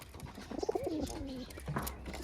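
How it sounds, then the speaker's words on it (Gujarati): A white pigeon coos close by, a soft throaty warble with a few low rolling notes, brief and alone. "આપણે આવડો કબૂતર પકડ્યું છે"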